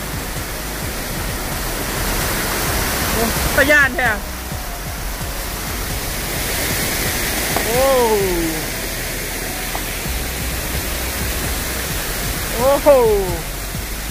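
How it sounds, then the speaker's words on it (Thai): A waterfall near Paksong on the Bolaven Plateau in southern Laos gives off a steady, full rushing roar throughout, while a voice breaks in briefly over the water now and then. "มันมีตรงนี้ด้วยน้ำตก"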